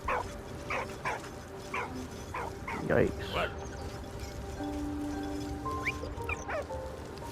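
A dog barks and yips repeatedly in the video game Valiant Hearts, with one louder bark partway through, amid game music and a person talking over it.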